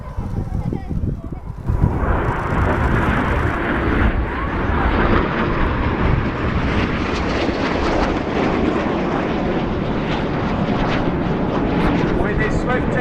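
Red Arrows jets roar overhead at an airshow air display, a loud sustained rumble that swells in after a quieter opening, with a commentator speaking over it.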